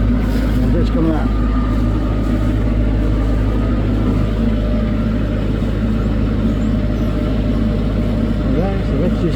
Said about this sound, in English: that's how you test the motor to make sure that everything's running smoothly